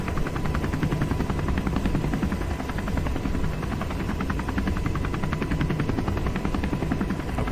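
A Black Hawk helicopter spools up for takeoff with a steady, loud rotor thrum and rapid blade chop over a continuous turbine roar that holds level throughout, with no voices.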